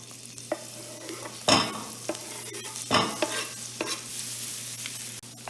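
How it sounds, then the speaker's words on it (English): Olive oil and butter sizzling as they melt together in a heated pan, a soft steady hiss broken by a few louder scrapes and stirring bursts. "Add a tablespoon of olive oil and a tablespoon of butter. I'm going to let that melt together."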